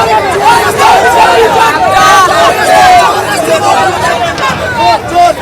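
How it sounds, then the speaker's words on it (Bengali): A loud, dense crowd at Nandigram shouting the Joy Bangla slogan at a West Bengal election gathering, a continuous wall of massed voices with rising and falling chant-like surges and no clear gaps. "শুভেন্দু অধিকারীকে লক্ষ্য করে জয় বাংলা স্লোগান দেওয়া হয় নন্দীগ্রামে।"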